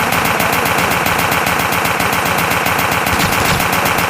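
A gun fires continuously in the Chic Blockos video game during PVP, a loud, dense, rapid stream of shots that never lets up, close and unbroken across the whole stretch.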